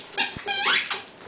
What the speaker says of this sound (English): Give me that Squeaky.